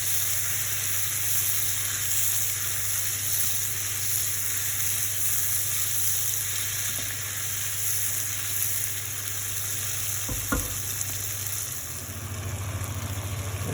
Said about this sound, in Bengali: টমেটোটা ভালো করে কষতে হবে যাতে টমেটোটা পুরো গলে যায়।